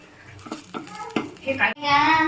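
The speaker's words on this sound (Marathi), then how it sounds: "मी आता कांदे भाजून घेतले, त्यासोबतच खिसलेली खोबरं खिचय ही त्यामध्येच भाजून घेईल." Sliced onions and grated coconut roast in a pan while a spatula stirs and scrapes them in short, uneven strokes. A louder sizzle swells at the end, and a voice is briefly audible.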